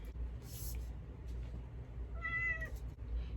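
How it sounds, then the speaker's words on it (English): A cat meows once, fairly clearly, in a quiet room with a low hum in the background, the short call rising and falling near the middle of an otherwise still moment. "And now there's a cat."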